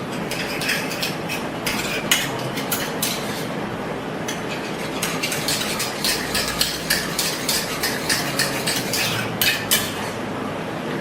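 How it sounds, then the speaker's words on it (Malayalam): A spoon stirs tamarind juice into aloe vera gel in a bowl for a homemade face bleach, making steady rapid clicking and scraping against the bowl, close and continuous without speech. "ഇട്ടതിന് ശേഷം ഇത് രണ്ടും കൂടി നന്നായിട്ട് നമുക്കൊന്ന് മിക്സ് ചെയ്യാം."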